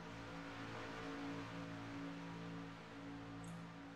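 A small, over-powered NASCAR truck engine in iRacing holds a steady high drone with a slight rise and fall in pitch, continuous and moderately loud, with no voices.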